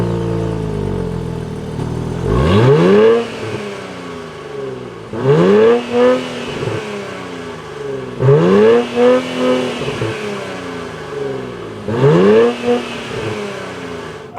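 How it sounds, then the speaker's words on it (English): A 2024 Nissan Z NISMO engine fires up and then blips in four loud, sharp revs spaced a couple of seconds apart, each climbing quickly and falling back to a steady idle between them. "How do you think the new Nissan Z Nismo sounds?"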